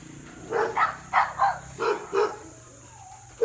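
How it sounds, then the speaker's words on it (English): A young pet dog barks in short bursts, about six sharp yaps in pairs, close and fairly loud, with a brief whimper near the end and no talking. "my dog's playing here"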